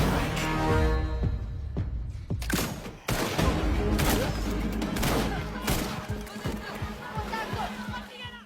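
Repeated bursts of gunfire and sharp single shots crack through a loud action scene in the film Sniper: The Last Stand, with the barrage continuing throughout.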